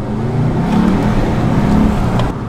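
Mercedes-Benz E63 AMG V8 with exhaust flap control, warmed up and revving hard nearby, a steady rough engine roar with crackling exhaust pops layered in.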